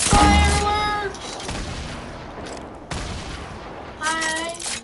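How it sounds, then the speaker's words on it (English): Fireworks exploding in a game, loud sharp bursts at the start and again near the end with crackling decay between, one burst after another. "fireworks."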